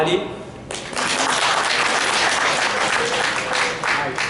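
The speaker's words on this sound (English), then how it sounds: "I have to remind you a third time for a round of applause." Applause swells up in a convention hall after a short quieter moment, then holds as thick, steady clapping from a large audience, with some crowd murmur underneath.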